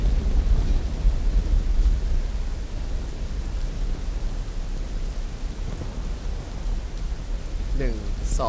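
Steady rain pours in the video game ROE, a dense broadband hiss with a low rumble running throughout, while brief voice-like chirps break in near the end.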